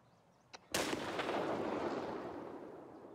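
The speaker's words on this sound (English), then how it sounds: "Who the hell is yeeting grenades at these guys?" A grenade goes off in the shooter game Escape from Tarkov: a small click, then one loud, close blast whose rumble fades slowly over the next few seconds.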